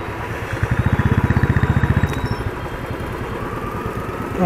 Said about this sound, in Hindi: आपको मेरी बाइक की आवाज कैसी लगती है जरूर बताइएगा।